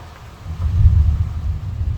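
A low, distant rumble of thunder from a moderate thunderstorm near Grenoble in the French Alps rolls in and swells briefly before fading.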